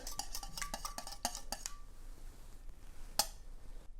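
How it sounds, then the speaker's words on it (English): Eggs whisked in a bowl: a quick run of sharp clinking taps for under two seconds, then quiet with one more clink near the end. "And then you're going to go ahead and whisk it all together."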